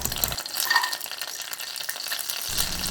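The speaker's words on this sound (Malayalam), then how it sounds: "ഇപ്പം നെയ്യ് ചൂടായിട്ടുണ്ട്. അതിലേക്ക് നമുക്ക് കുറച്ച് കാഷ്യൂ നട്ട് ഇട്ട് കൊടുക്കാം." Cashew nuts sizzle in hot ghee in a pan, a steady bright crackling fry with light stirring scrapes throughout, close and moderately loud with no voices.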